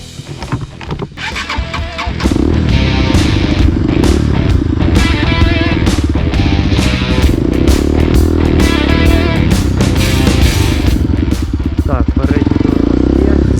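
A motorcycle idles roughly at first, then runs steadily and loudly as it is ridden in circles to warm up before power wheelie practice, its engine droning under wind rush.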